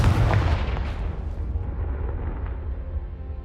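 Confringo fire spell explosion in Hogwarts Legacy, a loud booming burst at the start that rolls into a sustained rumbling blast and crackling debris, fading slowly over several seconds with no voices.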